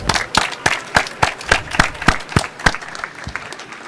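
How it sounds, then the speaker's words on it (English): Rhythmic clapping from the audience at a smart cities session at a tech conference, close and loud, falling into a synchronized beat of about ten strong claps before softening into scattered applause. "let me ask you for an applause to the panelists"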